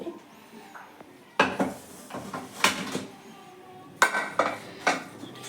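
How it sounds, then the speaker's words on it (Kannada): A pressure cooker of dill pulao is opened with sharp metallic clanks and rattles of the lid and pot, several distinct knocks in a cluttered kitchen rhythm and no talk. "ಈಗ ಇದಾಗಿದೆ, ನಾನು ಕುಕ್ಕರ್ ಓಪನ್ ಮಾಡ್ತೀನಿ."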